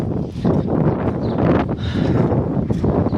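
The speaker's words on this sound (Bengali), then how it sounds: "প্রচণ্ড বাতাস হচ্ছে এবং মেঘ সাজাচ্ছে আকাশে, মনে হচ্ছে বৃষ্টি আসবে" Strong gusting wind in Dhaka under heavy clouds before a rainstorm roars loudly and continuously into the microphone, buffeting it without letup.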